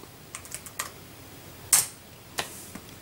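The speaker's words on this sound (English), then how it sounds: "you type in the word DIR" A handful of separate keystrokes as the DIR command is typed into MS-DOS on a computer keyboard, spaced and unhurried over a soft room hiss, with one louder, sharper key strike in the middle.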